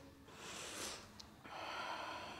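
Slow, audible Ujjayi breath during Ashtanga yoga practice: one long airy exhale followed by a soft rushing inhale, close and quiet, with no talking.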